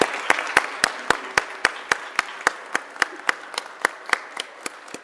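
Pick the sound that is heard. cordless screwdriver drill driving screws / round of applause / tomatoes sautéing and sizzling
round of applause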